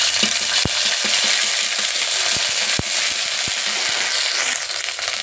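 Bay leaf, dried red chili, cumin and ginger paste hitting hot oil in a pan over a wood fire, giving a steady close sizzle with a few sharp crackles and pops, no talking.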